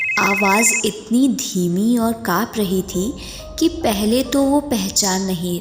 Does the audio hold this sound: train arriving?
no